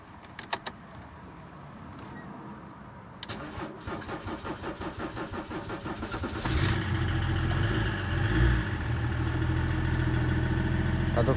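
A car is cranked over repeatedly after a fuel filter change and priming, rapid rhythmic starter churning that catches into a loud, steady running engine, preceded by a brief key jangle and no talk.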